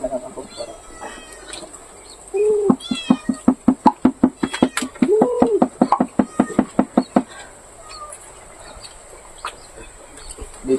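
A cat being fed sardines lets out a quick, pulsing run of close, loud meows and chirps, with a couple of drawn-out yowls in the middle, then goes quiet.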